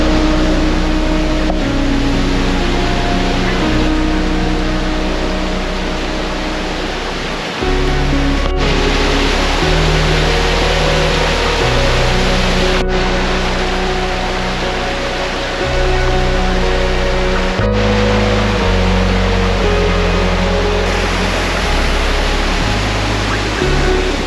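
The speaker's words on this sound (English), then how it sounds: "So these are High Force waterfalls." High Force waterfall roars continuously nearby, a dense, loud rush of water with occasional low rumbles and thumps.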